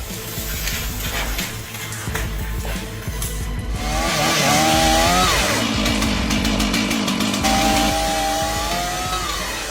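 Chainsaw cutting into a tree during logging, a loud steady engine drone close by that strains and shifts pitch as the chain bites into the wood.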